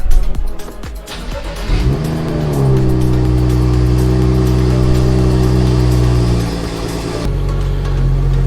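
A BMW engine with its check engine light on cranks and catches, then settles into a loud, steady idle that holds for several seconds before the tone shifts.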